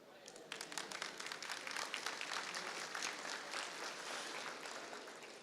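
A conference audience at a tech talk breaks into applause, the dense clapping swelling after a brief start and holding steady, fairly distant, to the end.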